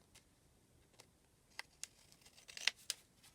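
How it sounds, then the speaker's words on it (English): Pinking shears cut paper for a Christmas journal, making sparse, quiet, crisp snips and clicks that come quicker toward the end. "I do want to take my pinking shears and just add a little bit of"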